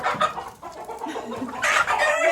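Chickens cluck steadily on a farm near Perugia in Umbria, and a rooster crows loudly partway through. The birds sound fairly close and carry on alone with no talking.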